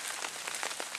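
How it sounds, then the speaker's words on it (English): Rain falling in woods, a steady hiss of drops pattering on leaves and ground, soft and even throughout with no voices. "Here's that rain that we were talking about."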